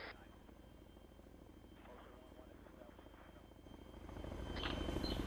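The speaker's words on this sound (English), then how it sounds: "No, I hear the heli." A helicopter in the Arma 3 military game, its rotor chop distant at first and then swelling louder toward the end, with low engine rumble underneath.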